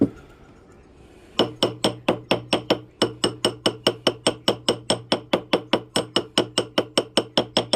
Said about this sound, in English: beating on the sides with a rubber mallet, and tapping on the bottom with a ball peen hammer